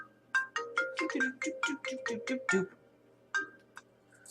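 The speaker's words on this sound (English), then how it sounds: "that was my cell phone" A cell phone ringtone plays a quick run of bright, evenly spaced electronic tones for about two and a half seconds, then pauses and gives one more short burst, fairly loud and close.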